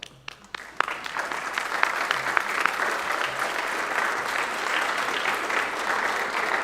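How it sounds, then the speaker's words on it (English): A school spring band concert audience applauds the students' parents, a loud, full burst of clapping from a large crowd in a hall, rising after a few scattered opening claps and holding steady to the end. "you can give your parents some applause"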